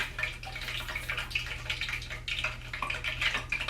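Water splashed into a pot of hot frying grease sets off an ongoing hiss of sizzling and crackling with uneven spitting bursts, close and fairly loud.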